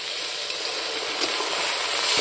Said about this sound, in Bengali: এখন আমি সিদ্ধর জন্য অল্প করে জল দেবো